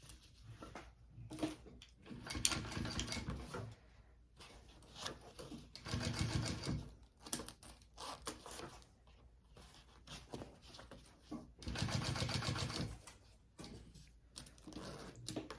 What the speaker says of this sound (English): I want to top stitch along the bottom of this zipper right here